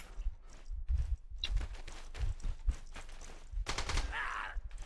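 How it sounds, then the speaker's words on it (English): Video game gunfire in a multiplayer shooter cracks out in scattered bursts and single shots, some close and some distant, mixed with footstep-like thumps and faint background noise. "Someone's shooting me."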